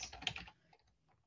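Quick burst of keystrokes on a computer keyboard, several close, soft clicks in a rapid cluster followed by a couple of fainter taps, recorded quietly with no talking.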